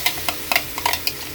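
Garlic fries in hot oil with a steady sizzle, occasional scraping stirs and light ticks from a utensil against the pan; no voices.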